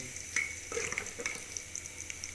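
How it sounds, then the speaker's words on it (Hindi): Garlic, ginger, tomato, green chili and onion paste sizzles and fries in a pan for Indian potato, dal and chana cooking, a steady close crackle with small sharp pops and clinks, without any talking. "अब हम इसके अंदर ऐड करने जा रहे हैं लहसुन, अदरक, टमाटर, सब्ज़ मिर्च और प्याज का पेस्ट।"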